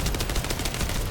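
Rapid automatic gunfire from a heavy-recoil gun in the video game The First Descendant sounds as a dense, loud burst of shots rattling without pause.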